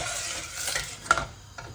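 Onions frying in a pan for a British Indian curry base, with a steady close sizzle and a brief scrape of stirring partway through, no talk.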